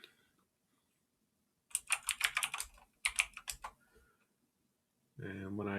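Typing a password on a computer keyboard: two quick runs of crisp, close key clicks separated by a short pause, then a brief voice begins at the end.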